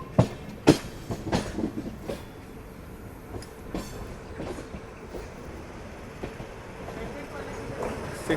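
The decorated Paschim Deluxe Express runs past on Indian rails, its wheels clattering in irregular clacks and thumps over a steady rolling rumble, fairly near and moderately loud.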